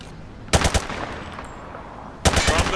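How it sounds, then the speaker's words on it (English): Machine gun fired from the hip in Call of Duty Modern Warfare 2, two loud rapid bursts of automatic fire separated by a short pause over low background ambience. "He sprayed bullets all over the damn place."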